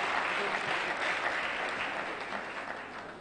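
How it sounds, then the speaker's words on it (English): Rousing audience applause at an academic award ceremony, a steady wash of clapping from a crowd heard at moderate distance, fading slightly toward the end. "Can we give another rousing applause?"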